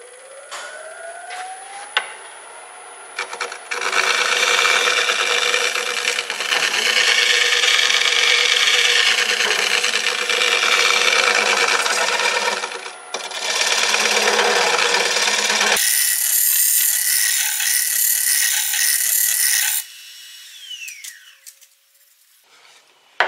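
Sharpened pecker tool grinding on a handmade lamp, a loud continuous rasping whir that runs for several seconds, pauses briefly, resumes, then shifts to a harsher high-pitched grinding before stopping.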